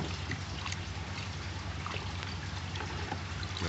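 An aquarium filter sponge rinsed under water, a steady close splashing trickle and pour that runs without a break and masks any other sound.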